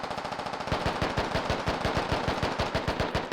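Sustained rapid automatic gunfire in the military video game Squad, loud and close, a steady rhythmic burst of shots continuing for several seconds after a brief lead-in of rumbling noise.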